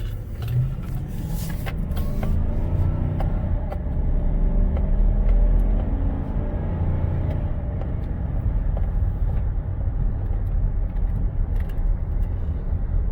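A 2017 GMC Sierra Z71 4x4 Elevation pickup with a 5.3 Vortec V8 cruising on the road, heard from inside the cab as a steady low rumble of engine and tire noise with faint rattles.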